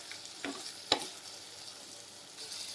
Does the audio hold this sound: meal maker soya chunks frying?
yes